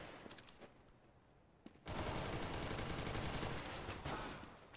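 Gunfire in the CS-GO game: faint scattered shots, then a loud, dense burst of rapid automatic fire that holds for a couple of seconds before fading.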